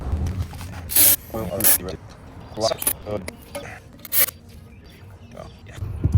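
Mass airflow sensor cleaner sprayed onto the throttle body of a 987.1 Porsche Boxster in short sharp hissing bursts, several separate spritzes close up, with handling noises and someone talking in between.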